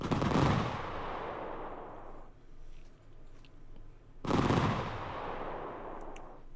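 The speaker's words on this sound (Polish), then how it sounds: "A teraz możemy sobie pooglądać ładne fajerwerki." Fireworks bursting at a New Year celebration, two loud crackling volleys a few seconds apart, each starting with a sharp bang and fading into dense crackle, heard without speech.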